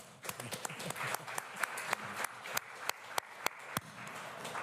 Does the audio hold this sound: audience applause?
yes